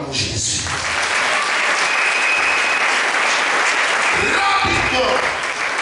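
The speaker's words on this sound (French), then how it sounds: "Acclamons Jésus." A church congregation bursts into sustained applause during a French-language worship service, a dense, loud wash of clapping filling the room, with some voices mixed in.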